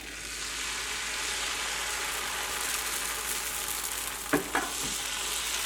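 Tomato dosa batter sizzles steadily on a hot griddle, a continuous close frying hiss with a couple of brief scraping clatters near the end; no one speaks.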